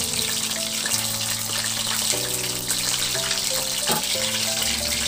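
Leftover chicken pieces fry in hot oil in a pan, a loud continuous sizzle and crackle that runs steadily throughout, with a sustained musical tone underneath.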